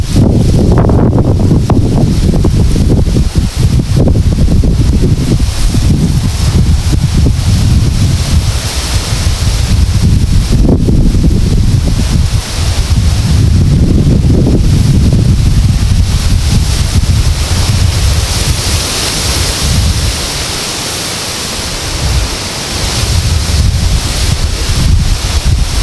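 Strong wind roars across the microphone by the sea, a loud, continuous buffeting rush with low gusting rumble and surf-like wash, easing slightly near the end before rising again.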